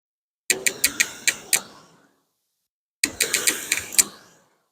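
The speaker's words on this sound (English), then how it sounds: "that's how you use the ski machine" A Concept 2 ski erg machine pulled in two bursts, each a quick run of five or six sharp clattering mechanical clicks from the flywheel and cord that whir down and fade, with a pause between the two pulls.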